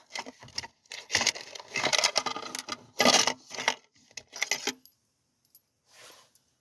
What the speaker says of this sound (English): these are the keys that go with it.